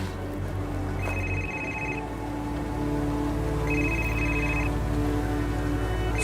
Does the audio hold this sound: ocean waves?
no